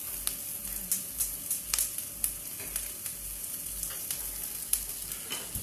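Oil heating in a pan while preparing Cape Malay pickled fish gives a bright, continuous sizzle and crackle, close and steady, with scattered sharper pops and no talking.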